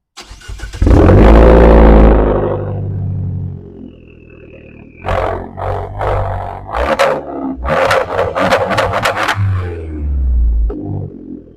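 A Fiat 500 Abarth exhaust fires up with a loud, deep roar, settles briefly, then barks through a series of sharp revs and throttle blips, recorded close to the tailpipe with no talking.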